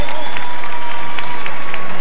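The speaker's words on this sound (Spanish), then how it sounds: "Todos los aplausos para ella." Loud, dense applause and crowd cheering in an arena after a women's lightweight world title boxing fight in Mendoza, with a commentator talking over it.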